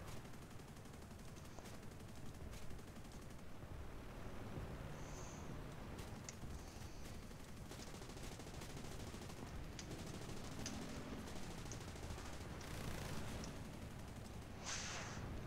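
War Thunder aircraft guns fire at pillboxes in a steady, muffled rattle, continuous and fairly even under a broad engine-like roar.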